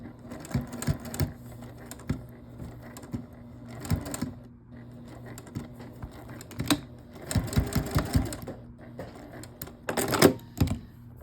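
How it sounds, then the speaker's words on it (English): A sewing machine stitches quilt binding in short runs with pauses, finishing with a quick backstitch; close, moderately loud mechanical whirring bursts with faint handling noises between. "I'm gonna come up to the line and backstitch, but not go any over the line."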